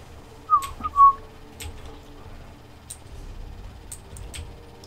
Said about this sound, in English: Whistle, whistle.